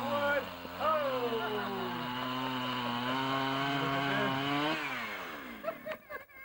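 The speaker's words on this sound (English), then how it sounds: "Two to your one cut with a chainsaw" A chainsaw cuts wood at a lumberjack show on Grouse Mountain near Vancouver, its engine roaring steadily with rising and falling pitch for several seconds before sputtering into short revs, with crowd voices in the background.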